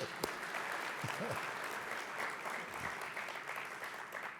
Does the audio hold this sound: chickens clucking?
no